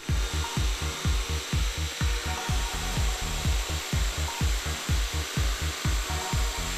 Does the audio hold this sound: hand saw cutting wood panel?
yes